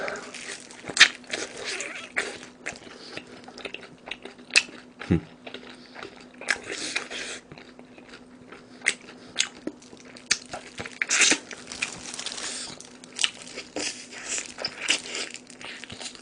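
Crunchy Goobne honey combo fried chicken is bitten and chewed up close, with repeated crisp crunches and wet chewing across the stretch and faint background talk.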